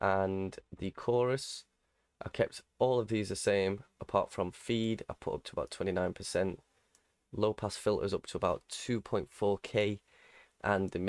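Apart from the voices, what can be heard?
No distinct noise like a dog, phone or traffic.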